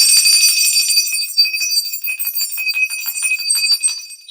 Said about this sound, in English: every time the bell rings, an angel gets their wings